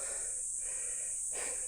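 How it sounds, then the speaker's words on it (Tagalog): Heavy, tired panting from someone resting during a steep hike, close to the mic, with breathy gasps and a sharper inhale near the end over a constant high hiss. "Pagod, hingal."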